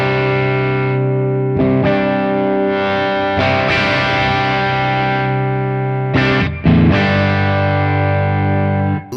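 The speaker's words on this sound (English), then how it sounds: "Lovely, just overdriven amp sound." An overdriven electric guitar played through a Lone Star amp model on a Sonicake Matribox, with loud, sustained distorted chords ringing out and changing a few times, with no talking.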